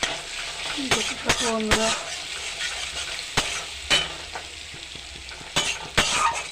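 Crushed garlic and a halved bay leaf sizzle steadily in a pan while a utensil scrapes and taps against the metal, with a speaker talking briefly over the frying.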